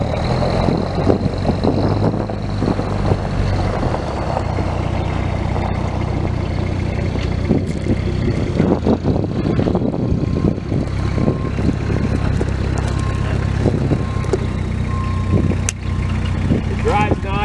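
A Melroe 3430 sprayer with a poly tank runs its engine and drives. The engine rumbles low and steady throughout at close range, with mechanical rattles and clunks, while a person talks over it.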